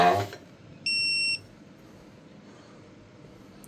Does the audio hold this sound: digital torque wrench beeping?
yes